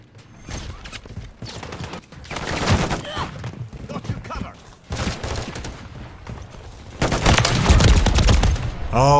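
Video-game gunfire in a shooter with akimbo shotguns: loud bursts of shots and rapid fire mixed with mechanical clatter, building to a heavy barrage near the end.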